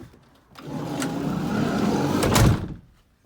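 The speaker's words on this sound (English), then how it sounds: "when we close the door," Sliding side door of a Mercedes Sprinter camper van conversion rolls along its track and shuts with a solid thud, one close and loud movement lasting about two seconds.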